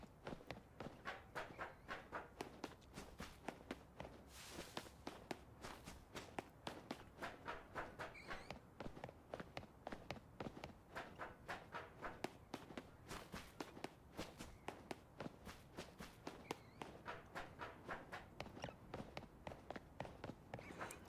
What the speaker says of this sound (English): Is the sound effect alright of the footsteps and crossing the bridge?